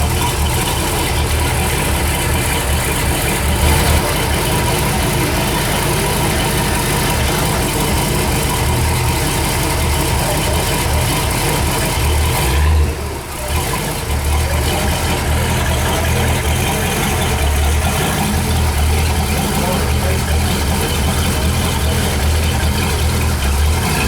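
A 1968 Ford LTD with a big 429 V8 making about 600 horsepower idles steadily and loudly up close, with a brief dip in the middle and a low rough throb throughout.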